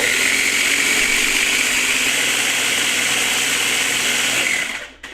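A blender whirs loudly and steadily as it purees onion and garlic, its motor holding a constant high-pitched drone before winding down and cutting off at the very end.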